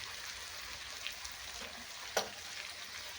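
Tomatoes being stirred in a frying pan for Indian chicken curry, giving a soft steady sizzle with light stirring scrapes and one sharp clink of a utensil near the end.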